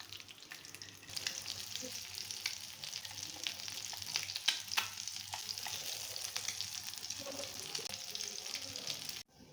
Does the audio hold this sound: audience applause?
no